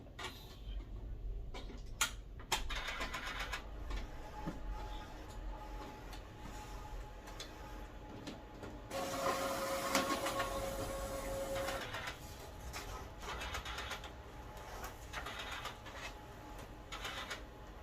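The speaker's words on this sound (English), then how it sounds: "it says loading ink first time, wait and do not touch the machine for 7 minutes" A Sawgrass 500 sublimation printer runs its first-time ink loading cycle, giving off steady mechanical whirring with clicks and a brief tonal motor whine midway, fairly quiet and continuous with no talking.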